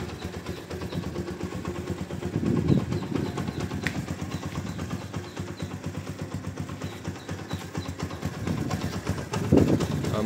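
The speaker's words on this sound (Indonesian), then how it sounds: "Bisa didengarkan sendiri suara mesinnya." A used motorcycle's engine, just started with the electric starter, idles smoothly. It gives a steady, low, even rumble throughout, close by and with no revving.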